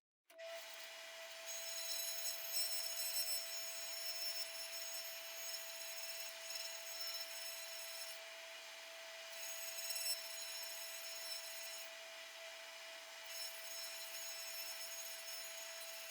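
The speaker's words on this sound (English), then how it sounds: "how we can take care of it using a spiral band on a die grinder." A die grinder fitted with a spiral sanding band works an inside weld corner on metal, giving a steady high-pitched whine with a constant tone and a grinding hiss throughout, loud and close with slight swells.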